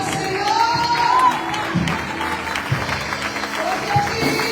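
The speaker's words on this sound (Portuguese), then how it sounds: "Aplauda o Senhor!" Applause from a church congregation during a Portuguese-language missions service, a steady wash of clapping with a few tonal voice or music traces over it and occasional louder claps standing out.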